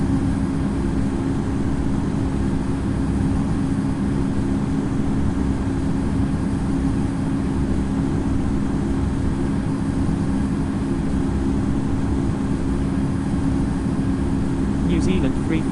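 An Air New Zealand A320 taking off in the flight simulator Infinite Flight: a continuous, loud jet engine roar with a deep rumble holds steady throughout, under radio voices.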